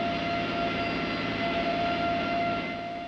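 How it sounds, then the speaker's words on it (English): Loud, steady roar of C-5 Galaxy jet engines with a high whining, screaming tone, continuous and close, fading slightly at the end. "and her engine still running, she's a real screamer"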